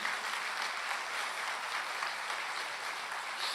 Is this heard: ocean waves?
no